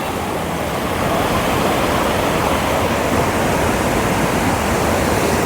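Sea waves roll onto Kozhikode Beach, forming a loud, continuous broadband roar of surf with no distinct breaks. The sound stays close and steady, with no voices over it.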